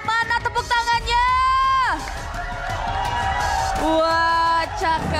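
Crowd cheering and whooping in an esports arena at a Mobile Legends MDL match, loud and sustained under a presenter's voice and some music, with brief clapping bursts at the start.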